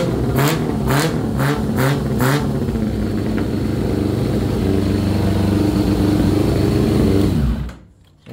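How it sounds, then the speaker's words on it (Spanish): A 2000 Yamaha R6 four-cylinder motorcycle engine revs hard after carburetor cleaning and synchronization, a few sharp throttle blips followed by a sustained loud, steady high idle that cuts off abruptly near the end. "ya acelerando están sincronizaditos los cuatro"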